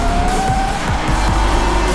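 A Talaria Sting MX electric dirt bike runs at full throttle, giving a steady, loud motor whine with rolling tire and ground noise that stays continuous and close throughout.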